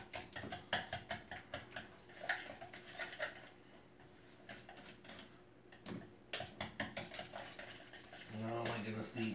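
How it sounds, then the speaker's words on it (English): A whisk stirs ravioli dough in a bowl, producing rhythmic clicking and scraping strokes in quick bursts, close but fairly quiet, with a short pause in the middle and a louder scrape at the end. "Get a fork, or maybe a whisk would be better."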